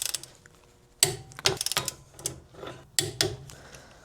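A torque wrench tightens the caliper bolts on a Porsche Boxster during a brake job. Close, sharp ratcheting clicks come in several quick bursts, with brief pauses between them.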